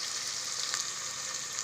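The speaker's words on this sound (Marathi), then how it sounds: "आपल्याला थोडं तेलावरती भाजून घ्यायचं" Tomato, onion and curry leaves frying in oil with a steady, close hiss and sizzle that holds evenly throughout, with no voices.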